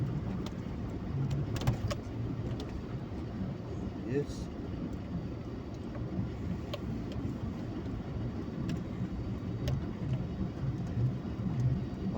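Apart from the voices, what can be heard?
cars driving across a winter road river crossing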